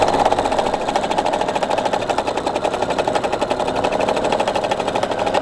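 Sewing machine running steadily through free motion quilting, a fast even needle rattle held at constant loudness from start to finish, close and alone with no voices.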